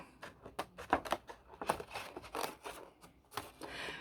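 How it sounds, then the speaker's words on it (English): Quick, crisp snips of sharp scissors cutting paper, several close-up cuts in an irregular rhythm with faint rustling between them. "I'm going to cut this out with some sharp scissors."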